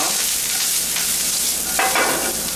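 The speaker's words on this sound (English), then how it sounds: "Real quick saute, you want to think along the lines of a stir fry here." Onion and garlic sautéing stir-fry style in a hot pan, a loud steady sizzle with brief stirring scrapes near the end.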